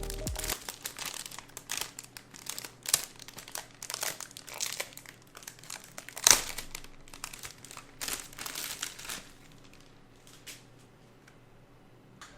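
Plastic packaging from a HyperX Alloy FPS RGB keyboard crinkles and crunches close up in dense bursts of rustling, with a few sharper crackles, easing toward quieter, sparser handling near the end.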